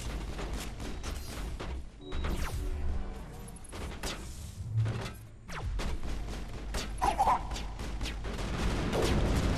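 Sniper rifle gunfire in the game Mass Effect, with sharp shots spaced through a loud, dense battle soundscape of mechanical clanks and booms.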